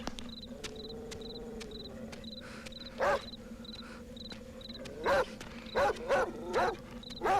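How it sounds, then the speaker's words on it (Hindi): A dog named Tiger barks in a run of short, sharp, fairly close bursts, four or five barks in the latter half, over a steady insect-like chirping background. "क्यों भौंक रहा है?"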